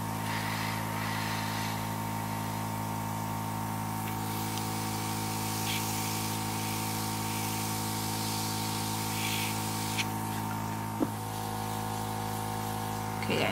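Airbrush spraying Dinair FX water-based makeup around the eye, a steady continuous hiss of air held at an even level throughout, close and constant with a faint brief click near the end.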